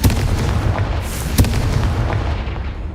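A loud, close fiery blast from the Confringo spell in Hogwarts Legacy, with booming, explosive bursts over dense rumbling battle noise and a sharp peak partway through.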